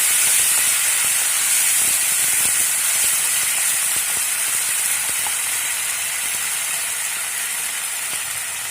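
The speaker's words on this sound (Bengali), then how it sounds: "পেঁয়াজ, আদা, কাঁচা লঙ্কার যে পেস্টটা ছিল সেটা দিয়ে দেওয়া হলো। কষে নিতে হবে এইভাবে।" Onion, ginger and green chili paste frying in a pan, a steady loud sizzle and hiss throughout with no talking.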